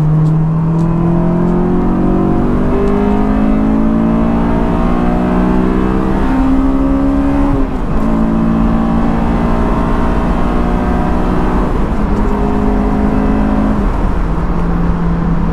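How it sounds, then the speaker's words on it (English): A Honda S2000 AP1 engine revs hard into VTEC through several rising pulls, pitch climbing steeply in each gear before dropping at the shift, loud and close throughout. "Let's hit some VTEC"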